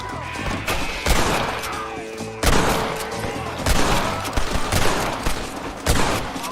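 Repeated gunfire in Red Dead Redemption, several loud sharp shots and bursts at irregular intervals, each with a booming tail, with faint game ambience between them.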